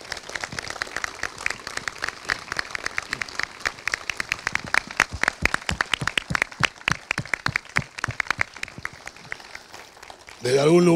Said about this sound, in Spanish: les pido un muy fuerte aplauso en recordatorio de ella